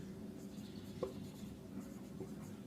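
Chalk or marker writes on a board during a chemistry lesson, faint short scratchy strokes with a couple of taps against low room background.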